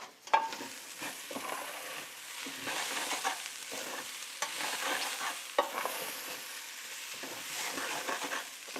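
Khichri grains toast in a pot with a soft, continuous sizzle and scraping as they are stirred, with light taps of the spoon throughout.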